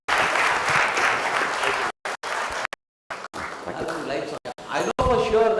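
Audience applause fills a lecture hall after a talk, loud sustained clapping from a large crowd broken by several abrupt cut-outs, then resuming strongly toward the end.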